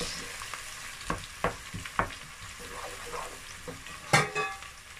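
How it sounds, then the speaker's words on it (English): Chopped onions sizzle in hot oil for a Nigerian stew while a spoon stirs them, knocking and scraping against the pot in irregular bursts, with one louder clatter near the end. "So now I'm going to add my onions that I chopped earlier. Going to mix it."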